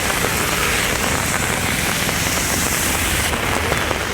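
Heavy rain falling over Ammapettai, Papanasam and Kumbakonam in Thanjavur district, a loud, dense, unbroken hiss of drops pattering on surfaces with no voices.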